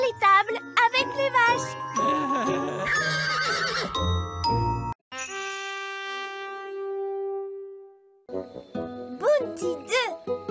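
A cartoon pink unicorn gives a long, bright whinny, with jingling sparkle effects and cartoon voices talking around it.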